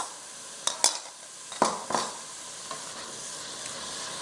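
Pureed diced tomatoes for a chicken curry sauce hit a hot pan with a sharp sizzle, followed by a few clattering stirs of a utensil against the pan, then a softer steady frying hiss.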